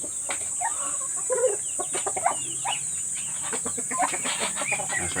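A flock of about 22 young ducklings, some already grown larger, peep and chirp busily at close range in a constant, overlapping chatter, with a steady high whine behind them.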